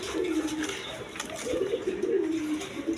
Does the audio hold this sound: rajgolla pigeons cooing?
yes